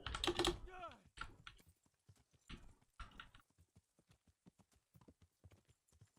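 Horse hooves in the video game Kingdom Come: Deliverance clop in an uneven, trotting rhythm, with a brief neigh near the start and mixed with keyboard tapping under a faint voice.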